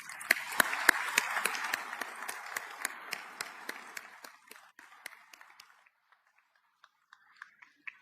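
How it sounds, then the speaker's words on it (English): Audience applause at a USSTRATCOM change of command ceremony, with a dense burst of clapping that thins out over several seconds into a few scattered last claps. "So a round of applause for Tony."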